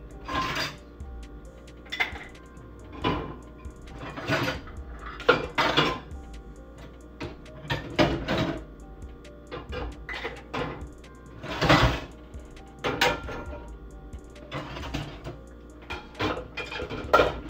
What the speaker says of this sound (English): I'm gonna put our dishes in the dishwasher